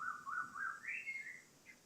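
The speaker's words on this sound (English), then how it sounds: "I hope you can hear the birds in the background" Faint bird song drifts in from a distance, a series of short whistled phrases rising and falling in pitch over quiet outdoor air.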